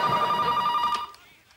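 A telephone bell rings in a household, one loud trilling ring that cuts off after about a second and leaves a faint tail.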